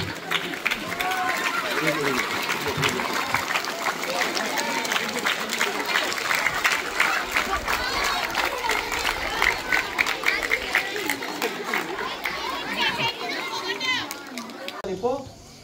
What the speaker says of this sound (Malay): bagi tepukan kepada Tuan Nombor